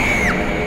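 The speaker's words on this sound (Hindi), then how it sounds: "मैं बताता हूँ कि चीखें कहां से आई थी।" A single shrill scream rises then drops off sharply within a second inside a hospital building, loud and close over a dense rumbling background.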